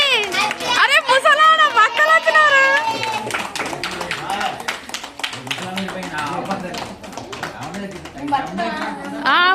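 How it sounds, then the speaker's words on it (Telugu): Several people clap in a rapid, patter-like burst at a family Satyanarayana Swamy vratam and anniversary celebration, heard beneath loud nearby talking and excited voices. "క్లాప్స్ కొట్టండి."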